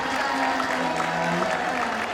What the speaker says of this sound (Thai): ขอเสียงปรบมือให้กับผู้กำกับและนักแสดงนะฮะ